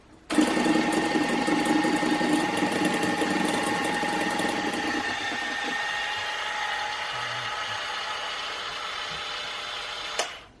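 An electric mixer whirs loudly and steadily through pink raspberry cupcake batter, its tone dropping partway through, then running on more quietly before a brief clunk near the end.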